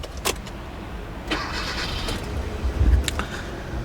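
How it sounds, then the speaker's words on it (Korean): A used Hyundai i30 with about 277,000 km on it cranks and starts from the driver's seat, a brief whirring crank followed by the engine catching and settling into a low idle, close and moderately loud. "자, 시동 한번 걸어보도록 하겠습니다"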